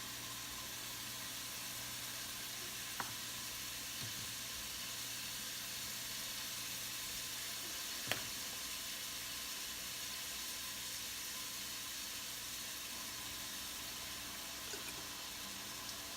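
Onion, celery and fennel sizzle steadily in a soup pot, a soft continuous hiss with a couple of faint clinks partway through.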